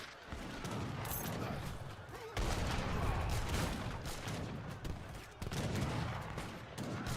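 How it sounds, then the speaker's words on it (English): Bombard cannons fire in a strategy video game, a dense, continuous barrage of booming blasts and crackling shots that swells and dips in waves over the whole stretch, loud and close. "How does it feel to get bombarded?"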